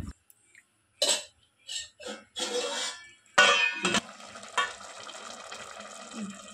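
Washed rice splashes into a pot while making a simple vegetable pulao, a few separate wet pours and plops with brief gaps of silence between them.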